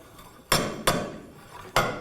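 Three sharp metallic impacts ring out at uneven intervals, each a hard clank of a slide hammer pulling a rear wheel hub on a 2007-2013 Mitsubishi Outlander, with a brief ringing tail.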